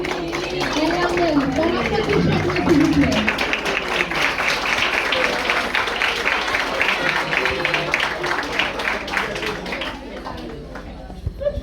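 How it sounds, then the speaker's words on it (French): Applause from a school audience for a student receiving a scholarship, a broad wash of clapping and crowd chatter that swells and then tapers off, with a voice speaking over it at the start. "Elle a bon applaudissement, s'il vous plaît."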